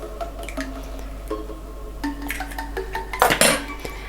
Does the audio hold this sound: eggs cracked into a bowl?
yes